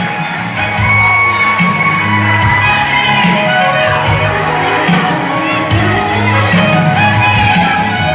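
A crowd at an outdoor carnival show cheers and shouts loudly and continuously, with whoops and raised voices rising over a dense wash of noise.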